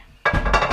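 A glass 9x13 baking dish is set down with a sudden sharp clink and brief clatter, loud and close, in a kitchen.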